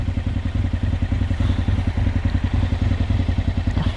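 A motorcycle engine idling close by, a loud, rapid, even low thumping pulse that runs steadily throughout with a faint rattle and no talk.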